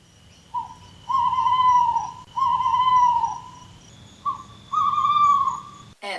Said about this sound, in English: Answered the owl, hooting softly in Mr. Spill's ear.